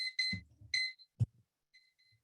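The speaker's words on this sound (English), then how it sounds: "That's just my little alarm to say that I've done 45 minutes" A small countdown timer alarm chirps a few quick electronic beeps marking 45 minutes, with soft low knocks in between and fainter beeps trailing off at the end; no one speaks.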